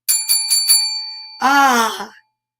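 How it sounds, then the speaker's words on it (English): A few bright bell rings sound in quick succession, followed by a short sighing or groaning voice. "Ringing the bell. Ringing the bell."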